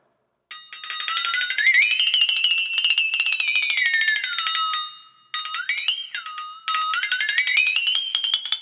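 A flexatone rings out with a bright, metallic, wobbling tone that swoops up and down in pitch, drenched in reverb, played in long sustained sweeps with a short break.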